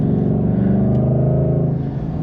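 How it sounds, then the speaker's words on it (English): A 2025 Ford Mustang Dark Horse with a six-speed manual gives a loud, steady engine drone from close inside the cabin, pulling hard with a deep rumble and no voices over it. "wow, a lot of good torque in this engine"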